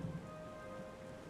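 The Wrathful Rain ability in the video game Othercide brings a steady wash of rainfall, a soft even patter with a low rumble underneath, quiet and continuous, no voices.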